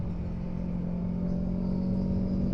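Kawasaki 650 motorcycle carrying a passenger on a mountain road in Kintamani, Bali, as the rider eases off the throttle: a steady low engine drone with wind rush, fairly loud and unbroken.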